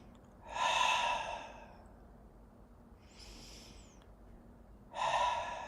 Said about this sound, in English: do a couple of rounds of audibly sighing out breath through an open mouth